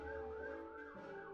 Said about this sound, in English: That was a lot of sirens going off at once